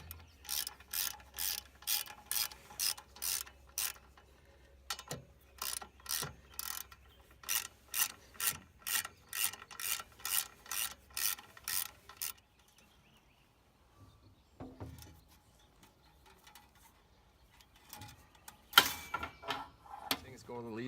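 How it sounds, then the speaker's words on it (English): A fish tape is fed through the boom of a Bobcat loader, making rapid rhythmic ratcheting clicks in several long runs separated by short pauses, followed by quieter clunks and rattles near the end. "So I'm going to run this fish up through the boom."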